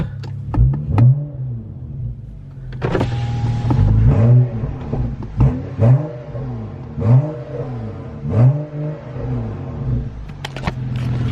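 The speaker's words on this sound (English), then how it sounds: "I'm not gonna rev it too much because it is still pretty cold" A cold BMW F30 335i with an N55 engine and catless downpipe revs repeatedly in neutral, about six or seven rising and falling bursts of deep throaty roar over a steady rumbling idle, close by.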